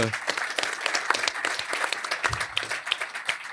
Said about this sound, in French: on peut l'applaudir parce que c'est toujours assez